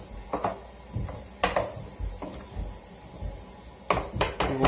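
Stirring roast beef and onions in a pot, with sporadic clanks and scrapes of a utensil against the pot over a low background hiss.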